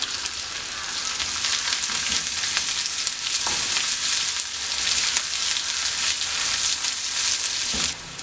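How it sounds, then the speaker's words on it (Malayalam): Crushed ginger, garlic, black pepper and cumin fry in hot oil in a pan for rasam, producing a loud, steady crackling sizzle with occasional sharper pops. "ചതച്ചെടുത്ത ഇഞ്ചി വെളുത്തുള്ളി കുരുമുളക് ജീരകം ഇതെല്ലാം കൂടെ ഇതിനകത്തേക്ക് ഇട്ട് ഒന്ന് മൂട്ടിച്ചെടുക്കാം"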